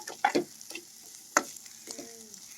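Onions fry in oil for noodles while a utensil stirs them, with several sharp scraping clacks against the pan over a faint low sizzle.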